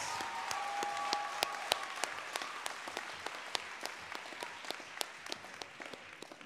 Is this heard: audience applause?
yes